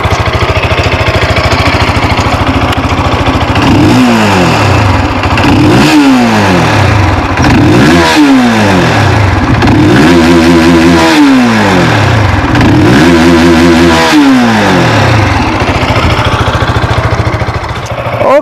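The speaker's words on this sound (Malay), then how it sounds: "Okey guys, so jom saya belanja bunyi motor ini." A SYM VFE 185i supermoped engine revs up repeatedly near the listener, about five rising-and-falling throttle blips over a loud, continuous idle, each swell climbing and dropping in pitch.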